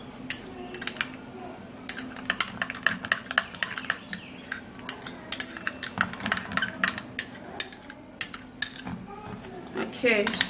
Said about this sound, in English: we're going to stir this up